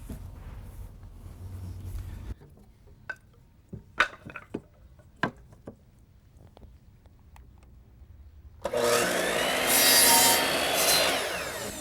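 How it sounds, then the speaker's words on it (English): A handsaw or power saw cutting wooden balusters for a porch rail, sparse knocks and taps of wood handling before a loud sustained cutting burst near the end. "Kathy continues to cut those 103 balusters"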